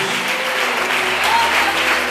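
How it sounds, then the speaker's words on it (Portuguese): A church congregation claps together in a dense, steady burst of applause, loud and close, sustained throughout. "Que aplaude a glória ao nome de Jesus"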